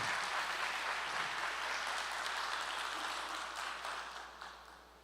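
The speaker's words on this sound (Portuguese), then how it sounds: "Salva de palmas para o nosso pastor" Applause for a pastor at an entrepreneurs' podcast event fills the room, a dense, steady wash of clapping at moderate level that slowly fades toward the end.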